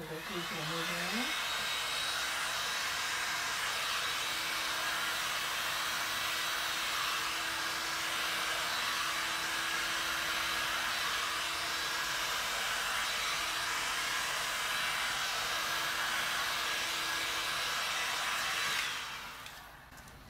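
A heat tool blows steadily over a resin painting, a continuous close airy roar that holds evenly for about nineteen seconds before cutting off near the end.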